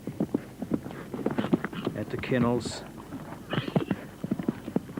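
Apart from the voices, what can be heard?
eventing horse hooves going over a jump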